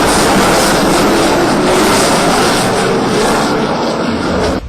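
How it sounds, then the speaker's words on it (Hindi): A Saab Gripen fighter jet roars overhead at the Aero India air show in Bengaluru, a loud, steady broadband engine rumble that fills the whole stretch and eases slightly toward the end. "ग्रिपन स्वीडिश का एयरक्राफ्ट है और आप इसकी गूंज सुन सकते हैं"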